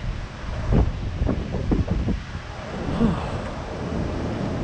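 Wind gusting across a microphone outdoors in the busy Shinagawa area of Tokyo on a hot day, a low rumbling buffeting that swells and fades with a steady hiss beneath.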